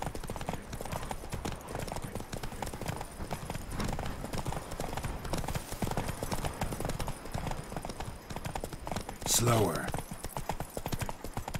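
The horse Roach gallops in The Witcher 3: Blood and Wine, with rapid rhythmic hoofbeats that run steadily under a voice speaking, plus a short louder burst near the end.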